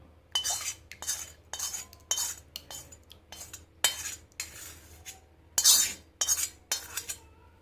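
A hair dye mixture is scraped and transferred from one bowl into another with a spoon, making a series of separate clinking, scraping strokes with short pauses between them, close and fairly loud, no talking.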